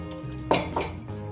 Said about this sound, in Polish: Teraz wlewamy naszą mieszankę z cytryną.